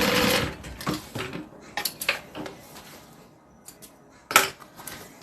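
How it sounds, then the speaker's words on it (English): Sewing machine stay stitching fabric on the back of a bag, with short bursts of mechanical stitching and rattling, close but fairly quiet, broken by pauses and a sharp clack near the end. "I'm just doing a stay stitch just to sew it on the back"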